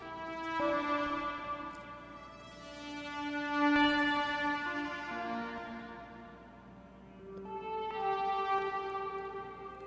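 A modular synthesizer patch recreating a track, run from a Pico DSP into a performance mixer with big reverb. Soft, tonal synth notes glide and shift slowly, faint and washy, swelling and fading over about ten seconds.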